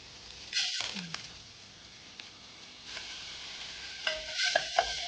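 A spoon stirs onions, garlic and juice from canned mackerel in a pot, cooking without oil, giving scraping strokes over a faint sizzle with a few clinks of the spoon near the end.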